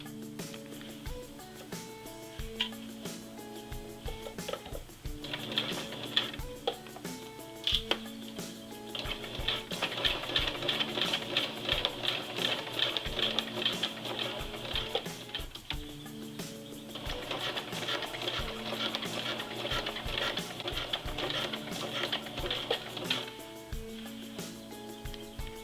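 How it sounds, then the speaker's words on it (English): A home sewing machine stitching a formal dress bodice, a quiet rapid mechanical chatter that runs in steady bursts with short pauses between seams. "I'm just using my home sewing machine and not my industrial machine."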